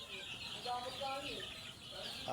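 Young chicks peep in a steady, high-pitched chorus close by, their small calls overlapping continuously with faint clucking of chickens mixed in.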